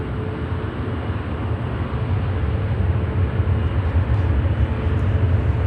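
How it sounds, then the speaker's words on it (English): A Cathay Pacific Airbus A350-1000 landing at O'Hare airport, a loud, broad, continuous jet roar that holds steady and grows slightly stronger, with no voices. "And we have Cathay coming down here. On a 350"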